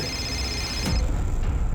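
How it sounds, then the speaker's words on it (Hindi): A telephone rings with a steady electronic trill in an indoor room, and the ring stops partway through under a faint background hiss. "संतोष के वॉचमैन का फोन था"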